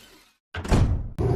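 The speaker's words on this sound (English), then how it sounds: "and then through a secret door" A secret door leading on from a vehicle repair bay swings open with a sudden heavy thud and a sustained scraping rumble, then a second sharp knock near the end, all close by with no talking.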